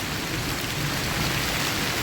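Heavy rain with hail pours down in Tikauli jungle, a dense, loud, continuous hiss and patter drumming close by for the whole two seconds.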